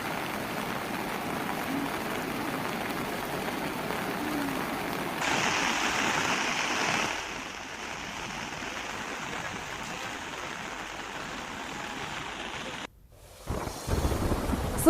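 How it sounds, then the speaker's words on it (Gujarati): The Mohan and Veera rivers in flood pour over both banks in Gujarat, giving a steady broadband rushing roar throughout that shifts in level partway through, with a sharp break and louder wash near the end. "નદી બંને કાંઠે વહી રહી છે."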